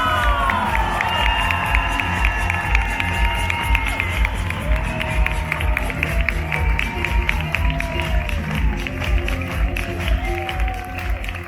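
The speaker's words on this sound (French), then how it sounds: "je vous demande s'il vous plaît un tonnerre d'applaudissements pour Zoro" An audience at an Ok Corral Zorro show cheers and applauds for Zorro, with shouting children and whoops over a continuous crowd roar that lasts throughout, while music tones ring above it.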